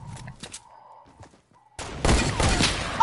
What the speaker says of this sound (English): Shoot that motherfucker.